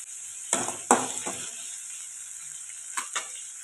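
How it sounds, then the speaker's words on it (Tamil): Chopped onions sautéing in a pan after cumin seeds have popped, with a steady close sizzle and a few scraping stirs of a spatula against the pan. "ஆனியன் சேர்த்துருக்கேன் ஆனியன் நல்லா வதங்கட்டும்"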